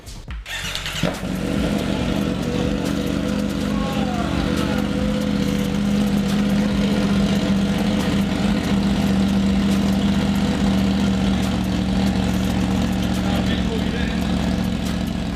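A motorcycle engine fires up and idles loudly and raw, a rough steady rumble with no muffling, close by and continuous.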